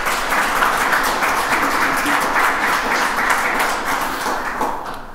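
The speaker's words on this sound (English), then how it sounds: "I don't know if I can get a round of applause for her." An audience gives a round of applause at an opening acknowledgements event, a steady crowd clapping that holds for several seconds and fades slightly toward the end.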